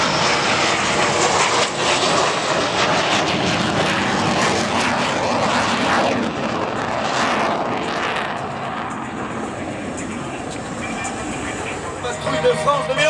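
Loud aircraft engine roar during a go-around at the 2011 Cerny La Ferté-Alais air show, a dense, sustained, near roar throughout with a slight drop midway, announcer talk faintly underneath.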